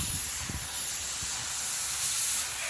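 An HVLP paint gun sprays Helmsman Spar Urethane in a steady, close, continuous hiss with no talking.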